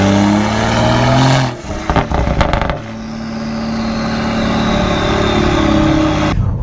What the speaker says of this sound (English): You can hear in sport immediately the burbos coming out of the car